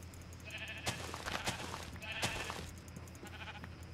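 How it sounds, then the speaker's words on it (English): Sheep in Minecraft bleat in several distinct calls over steady game background noise, a handful of them overlapping in quick succession, with no talking. "Wow, there's so much sheep."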